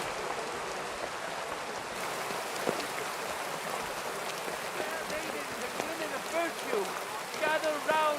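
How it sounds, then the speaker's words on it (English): Steady rainfall in the medieval role-playing game Kingdom Come: Deliverance II, a dense hiss of drops on surfaces running throughout while characters speak over it in the foreground. "Oh, don't mind the rain."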